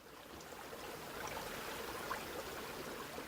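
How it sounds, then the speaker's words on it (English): A bubbling little brook trickles out of the Great Dividing Range at the source of the Murray River, giving a soft, steady, faint flow of water with small gurgles throughout. "This bubbling little brook emerging out of the middle of the Great Dividing Range is the source of Australia's longest river."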